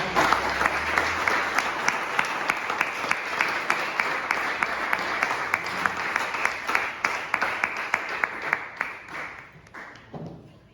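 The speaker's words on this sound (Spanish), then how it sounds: "Muchas gracias, muy amable por los aplausos." Sustained applause from a crowd, steady dense clapping with sharp individual claps standing out, fading toward the end.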